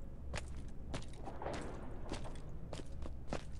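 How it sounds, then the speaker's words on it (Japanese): Footsteps in the survival game Knives Out, in its nightmare-border leisure mode, a run of crisp, evenly spaced steps close and loud over low background hum. "これすげえ足音聞こえる"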